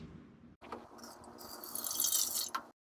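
Water being poured from a measuring cup into the pan of a Cuisinart CBK-200 convection bread maker, a short splashing trickle that builds then stops abruptly, close and fairly quiet.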